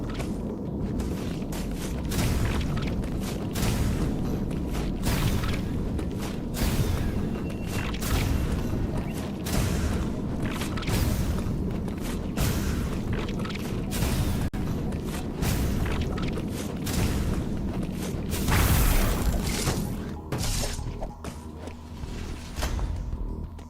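Missile explosions in the video game Metroid Dread, a continuous run of booming thuds and rumbling impacts layered over game music and effects, loud and busy throughout.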